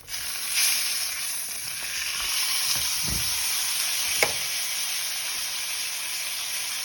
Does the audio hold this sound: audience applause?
no